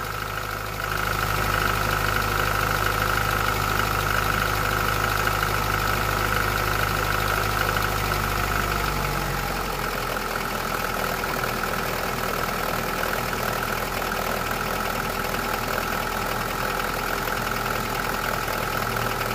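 Old car with a CAV diesel engine idles steadily and roughly close by, a continuous vibrating drone with a knocking texture that shifts to a lower, rougher tone partway through.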